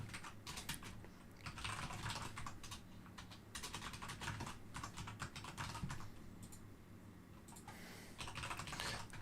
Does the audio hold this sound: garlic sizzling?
no